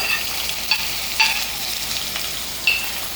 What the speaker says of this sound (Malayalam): ഇതെല്ലാം ചേർത്ത് ഒരു രണ്ട് മിനിറ്റ് ഒന്ന് വഴറ്റാം